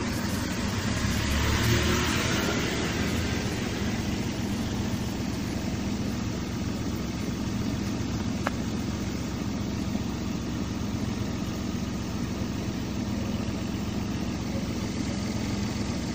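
A Daihatsu Xenia or Toyota Avanza engine idles at roughly 800 to 900 RPM under idle speed control, a continuous low, steady rumble close by with no talk over it.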